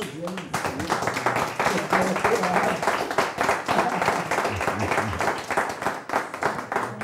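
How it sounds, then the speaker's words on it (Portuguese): Studio audience applause with dense, continuous clapping throughout, fairly loud and steady, ending a program's opening segment. "Poxa, foi o mais aplaudido."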